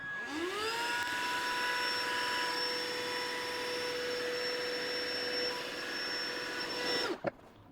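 An ETENWOLF Vortex S6 cordless air pump, draining water by suction, whirs up to a steady high-pitched whine and runs continuously, then cuts off abruptly with a click.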